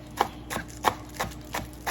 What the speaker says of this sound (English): I'm going to need 2 green onions, so I'm chopping these up now.